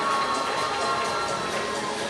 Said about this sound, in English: Really getting the crowd going there.